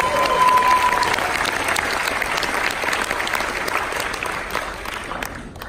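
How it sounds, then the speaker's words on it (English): Audience at a training seminar applauds in a steady, dense wash of clapping that holds loud and close, then fades off near the end; a brief tone sounds early on. "Give yourself a big round of applause."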